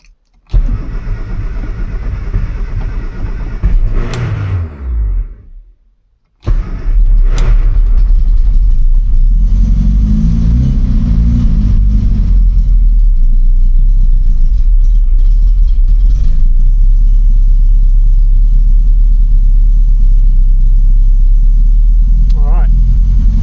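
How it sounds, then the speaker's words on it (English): A Mini Clubman GT engine cranks, catches briefly, stalls, then restarts and settles into a loud, steady fast idle around 2000 RPM on choke, close up with someone talking over it. "That choke out puts a fair amount of fuel in there and makes it rev about 2000 RPM."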